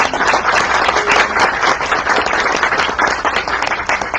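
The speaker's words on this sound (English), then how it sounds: "So let's have a round of applause for Richard Marcus." Sustained applause from a lecture audience on a university campus, dense and steady clapping filling the room throughout, loud and close with no speech over it.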